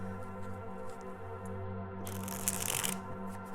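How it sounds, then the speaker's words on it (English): A deck of playing cards being shuffled, a quiet room tone at first, then a crisp burst of riffling cards for about a second and a half, close and clear, with no talk. "let's shuffle these cards here"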